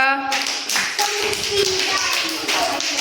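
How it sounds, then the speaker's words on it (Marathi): Children in a first-grade Marathi class clap together in a brief burst of rapid, close hand claps that fill the short moment, with some classroom voices mixed in. "टाळ्या वाजवा"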